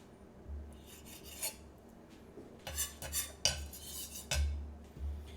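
A knife dices guanciale into cubes on a cutting board, giving a run of scraping, tapping chops that grow denser and louder toward the end, close up and with no talking.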